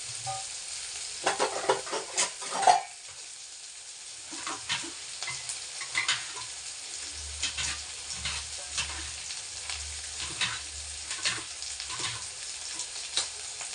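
Sautéing in a pan until golden brown, a soft steady sizzle with intermittent scraping stirs, a few sharper clinks near the start, and a low rumble later on.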